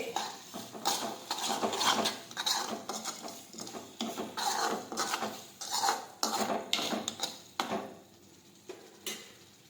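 A spoon scrapes and clanks against a pot while spices are mixed into urad dal, making repeated close rubbing strokes with metallic knocks in an uneven rhythm and no voices.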